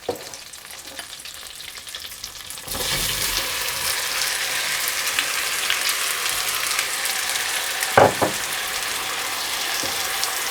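Strawberries sizzle and fry in a hot pan for a strawberry pie, a steady crackling hiss that swells louder once the fruit goes in, with a brief clatter of a utensil stirring near the end.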